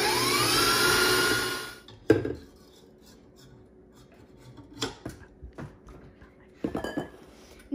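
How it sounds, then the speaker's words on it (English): Cupcake batter with sugar mixed in a bowl, a loud whirring mixer at first, then scattered clinks and scrapes against the bowl, faint and close. "And start mixing again. We will mix until it becomes creamy."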